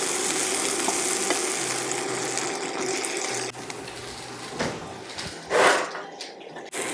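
Seasoned potatoes fry in a pan with a steady close sizzle and crackle, broken by a few louder stirring scrapes toward the end.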